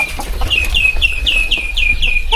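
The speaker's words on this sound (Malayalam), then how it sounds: "കുറേ ഉണ്ട് കോഴി." Chickens kept in backyard coops, clucking in a quick repeated run of sharp, close calls over a low rumbling background.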